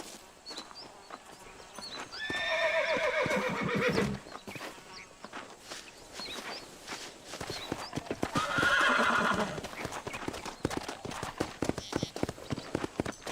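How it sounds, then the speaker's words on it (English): A horse in the video game GTA da Roça: two loud, drawn-out whinnies roughly six seconds apart over a steady patter of clopping hooves throughout. "Vem, cavalo, tá fugindo de mim, mano?"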